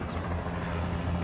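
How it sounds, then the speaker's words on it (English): Helicopters circling overhead after a tornado, a steady low rotor thrum with layered harmonics, continuous and fairly loud, with no talking. "Helicopters circling"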